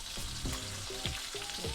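Butter sizzles hard in a pot alongside a ribeye steak, giving a dense, continuous frying hiss broken by rhythmic scraping and stirring strokes, close and steady with no talk.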